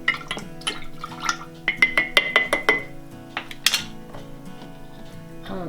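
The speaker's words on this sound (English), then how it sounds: "I pour a little in there, and then I'm gonna gently stir it" A spoon stirs milk and yogurt starter inside a glass jar, giving a run of light clinks and taps against the glass, several in quick succession mid-clip, with faint drips and kitchen hum around them and no talking.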